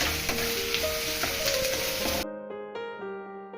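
Chopped garlic sizzling in hot mustard oil for a Murshidabadi chicken masala, a dense steady crackle that cuts off abruptly partway, leaving a quieter tonal hum with faint clinks.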